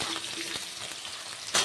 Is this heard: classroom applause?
no